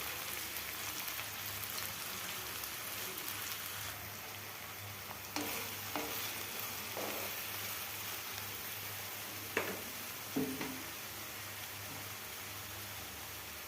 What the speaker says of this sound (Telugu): బాగా ఫ్రై అయిన తర్వాత ఉల్లికాడలను అయితే చిన్నగా కట్ చేసుకొని కడిగి దీంట్లో అయితే వేసేసుకున్నాను